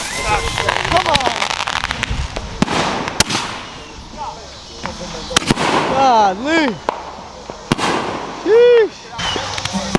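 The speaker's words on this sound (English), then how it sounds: "We're going to keep popping fireworks throughout the day." Fourth of July fireworks shells bursting in quick succession, loud sharp booms and crackles with whistling tails, while a man exclaims over them close by.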